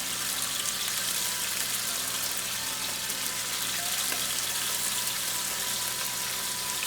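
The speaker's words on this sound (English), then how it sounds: "We just want to make sure we have enough room so that the meat is actually all browning and plenty of space." Beef chunks browning for an Irish Guinness stew hiss and crackle in a hot pan, a steady close sizzle with faint wet pops throughout, no voices.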